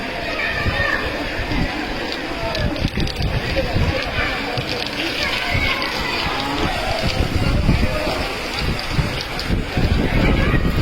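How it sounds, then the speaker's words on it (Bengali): Light rain falls on an outdoor football field during a children's match, a broad steady hiss mixed with gusty wind buffeting the microphone, while someone talks over it. "বৃষ্টি হচ্ছে অল্প স্বল্প"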